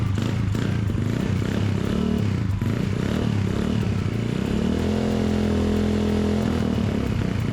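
Honda TMX155 motorcycle built as a custom cafe racer, its engine running loud and close throughout with a steady rough drone and a shift in pitch partway through as it rides.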